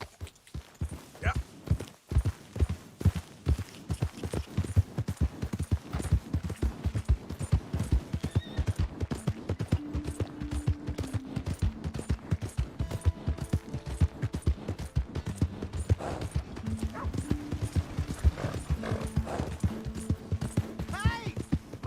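Horse hooves clip-clop steadily and close in Red Dead Redemption 2, a fast rhythmic run of hoof strikes that persists throughout, with occasional whinnies and background game music layered underneath.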